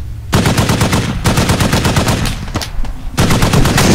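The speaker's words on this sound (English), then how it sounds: "It's time to start shooting." A mounted machine gun fires from a Humvee in the video game Squad, loud rapid bursts of gunfire in quick succession with two short pauses, close and dominating.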